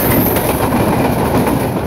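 The Karnaphuli Commuter train from Chittagong, bound for Dhaka, passes close through a railway station in a loud continuous rumble of rolling wagons with rapid wheel clatter.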